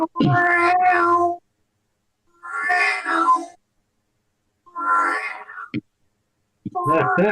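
A cat gives four drawn-out, close and loud meows separated by clear pauses of silence, the last one rising sharply.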